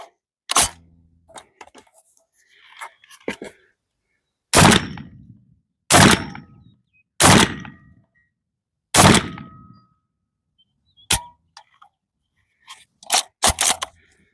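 Tokarev TAR-12 shotgun firing birdshot, a series of loud, sharp reports spaced irregularly over several seconds, some in quick pairs, with faint outdoor quiet and small noises between shots.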